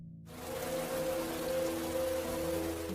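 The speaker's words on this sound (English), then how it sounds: "it rained heavily and flooded the cornfields of Triwal" Heavy rain falls in a film scene over flooded cornfields, a dense, steady hiss that swells in quickly and holds, with a low hum beneath it.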